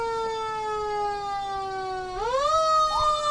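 A fire department siren wails steadily at a Memorial Day parade, a strong tonal sweep that holds, dips, then rises again, fairly close and clear above light background noise.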